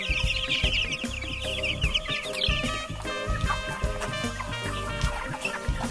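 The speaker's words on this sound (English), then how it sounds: "These chickens are just 2 weeks old." Young broiler chickens about two weeks old, part of a farm flock of hundreds, cluck and cheep in a dense, continuous chatter. The close, busy sound has many overlapping calls throughout.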